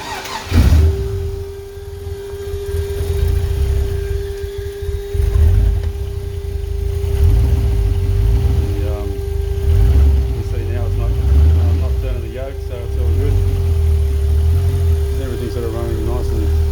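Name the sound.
5.7L LS1 engine running on a run stand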